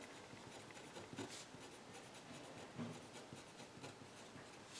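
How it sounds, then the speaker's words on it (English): A pen scratching on paper while writing, soft continuous scraping strokes with slight rhythmic swells, close and faint over a steady background hiss, with no talking. "So I'll write two categorical variables."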